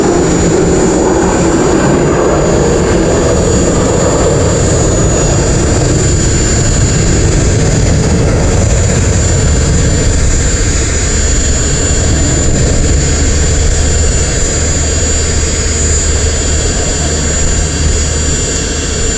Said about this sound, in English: Pardon our airplanes flying overhead.